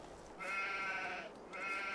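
Sheep in Farming Simulator 22 give two clear, nasal bleats, one long and one shorter after a brief pause, close and alone over quiet background.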